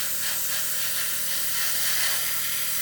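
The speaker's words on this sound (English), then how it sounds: "You can see I'm not going to stop the airbrush. I'm just going to keep going." An airbrush spraying primer gives off a steady, faint airy hiss that carries on without pause throughout.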